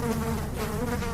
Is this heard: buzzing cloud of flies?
yes